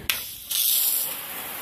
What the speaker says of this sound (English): I got my handy dandy water hose here, and I'm gonna spray it off.